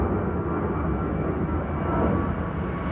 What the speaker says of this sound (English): except for a couple of airplanes flying.